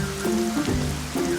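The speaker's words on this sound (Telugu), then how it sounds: "ఇలాగే వర్షం పడుతూ ఉంటే నేను ఎలా పనికి వెళ్ళేది?" Steady rain pours down in an animated cartoon, a dense, even hiss holding throughout with a few soft tonal cartoon sounds layered over it.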